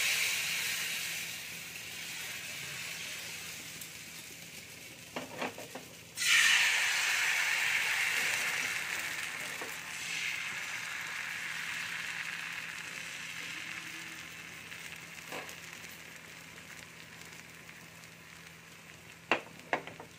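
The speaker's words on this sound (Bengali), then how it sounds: "একইভাবে আমি সবকটাই ভেজে নেব।" Sorucha kli flatbreads fry in a pan, giving a steady, soft sizzling hiss throughout, with a louder burst of sizzle partway through and a few faint clicks and taps from nearby utensils.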